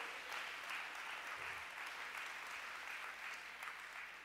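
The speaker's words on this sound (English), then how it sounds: "clap your hands to the Lord" A congregation at a Sunday worship service claps together, a faint, distant and even patter of many hands that holds steady throughout with no voices on top.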